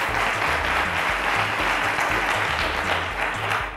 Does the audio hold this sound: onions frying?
no